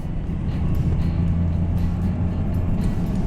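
A car with a manual transmission driving around town on a sunny day, a steady low engine hum and road rumble from inside the cabin, even in level throughout with no talk.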